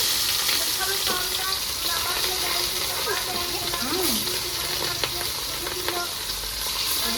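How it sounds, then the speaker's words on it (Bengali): Pieces of katla fish fry in hot oil in a home kitchen, a constant crackling sizzle close by, while voices talk intermittently over it. "এবারে মাছ ভাজা হচ্ছে"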